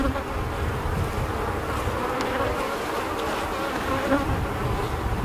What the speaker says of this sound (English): I'm looking at the bees that are on the frame